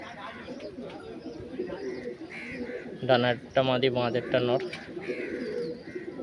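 An Andhra Kalpeti pigeon pair, female and male, coos in soft repeated bursts close by, set against steady background noise while someone talks over and between the calls.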